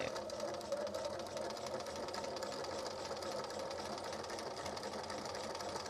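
A sewing machine runs continuously, stitching fabric for a Victorian skirt in a fast, even whirring hum that stays steady throughout with no pauses.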